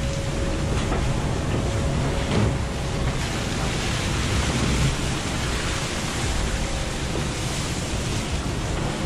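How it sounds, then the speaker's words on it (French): Ocean waves and heavy swell roll in the Southern Ocean around a racing yacht, a loud, continuous wash of surf mixed with strong wind buffeting the microphone, with no voices. "Du surf, y'a du swell!"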